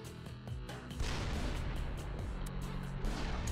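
Battleship guns firing in the naval strategy game Battlecruisers, a rapid run of booming artillery shots swelling into a sustained roar of explosions, heard close and loud with no talk.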